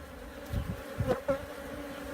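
Honey bees buzzing around a queen cage in a Flow hive during requeening, a steady faint drone with a few brief louder passes of bees flying close.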